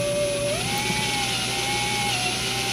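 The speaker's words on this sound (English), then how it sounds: "The drill will do the work for you." A steady, high-pitched power drill whine runs continuously, its pitch stepping up slightly partway through as it bores through metal while repairing a Farmall 300 tractor carburetor float screw.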